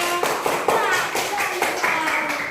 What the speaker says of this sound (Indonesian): tepuk tangan untuk kelompok mereka